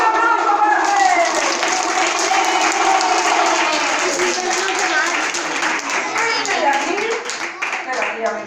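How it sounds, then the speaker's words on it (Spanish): Enthusiastic clapping and applause from a lively crowd cheering for a bear named Fred at a competition, loud and continuous throughout, with excited voices and calls mixed into the clapping. "¡Un aplauso para Fred!"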